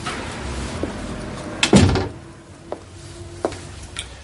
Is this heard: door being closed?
yes